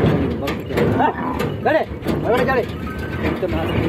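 A bullock moos several times in drawn-out calls, close by, with a bullock cart heading to the fields, amid outdoor rumble and some background voices.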